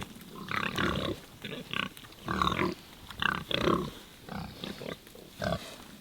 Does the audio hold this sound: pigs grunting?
yes